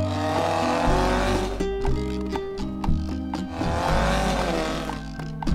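A dune buggy races along bumpy dirt roads, its engine droning and shifting pitch with revving surges and tire noise, loud and close throughout.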